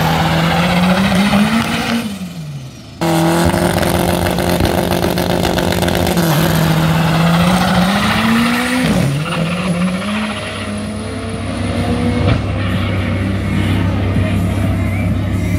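Drag racing cars, a VW Fusca and a VW Gol, launch at a Sorocaba drag strip during a practice session: loud, close engines rev and climb in pitch through hard pulls, with a brief drop before the roar resumes.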